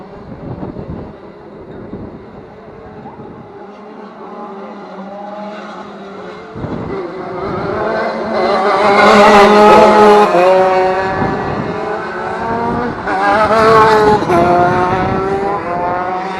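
Several small retro racing kart engines whine past one after another, their buzzing pitch rising and falling as they swell nearby, loud and close, then recede, on a windy day.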